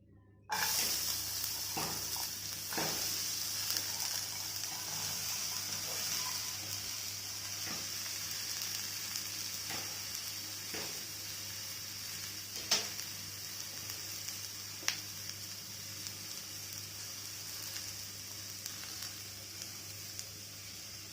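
Finely sliced ivy gourd frying in a pan, a steady close sizzling hiss throughout, broken by occasional soft clicks and knocks of a spoon.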